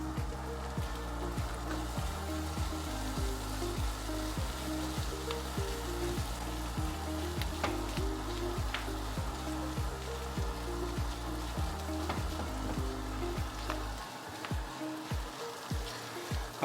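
Mangrove clam roast fries with ground pepper and curry leaves in a pan, giving a steady, close sizzle that runs the whole time beneath rhythmic background music.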